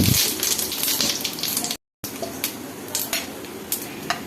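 Whole cumin seeds sizzling in hot oil on a gas stove, a continuous crackling fry with occasional metallic clinks of a utensil against the pan and a brief cut of silence partway through.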